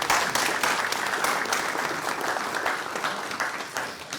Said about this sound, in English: I'd like to give them all a big applause.